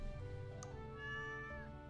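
A small stray cat in the Stardew Valley video game gives a soft, drawn-out meow, faint and alone over a gentle background music bed.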